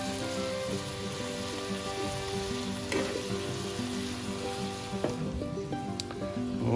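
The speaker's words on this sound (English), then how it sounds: "continue to fry this hamburger meat down" Hamburger meat fries on a grill with a continuous crackling sizzle and scattered sharp pops over a low background hum, at close range.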